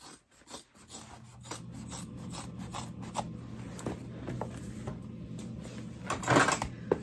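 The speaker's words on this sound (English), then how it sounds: "just trim the excess in the curved" Scissors snip through fabric while trimming excess at the curved corners of a sewn messenger bag, a run of close, soft rasping cuts and rustles with a sharper cluster of snips near the end.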